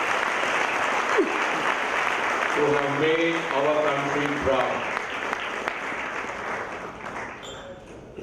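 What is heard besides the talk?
audience applause for the Indian blind women's cricket team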